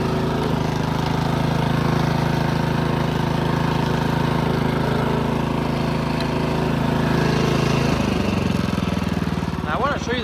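A Toro Power Max 10/28 OHXE heavy-duty snow blower engine runs at full throttle: a loud, steady, close mechanical roar with a rough droning hum that shifts slightly near the end.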